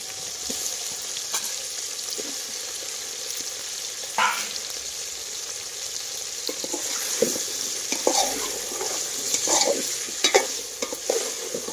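Pieces of pumpkin-like vegetable frying and being stirred in a pan for sambar, a steady sizzle with scraping stirs and occasional clatters, close and clear, with no talking.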